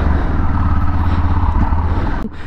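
Yamaha XTX 660 motorcycle engine running loud and close, a deep steady throbbing rumble with a brief dip near the end.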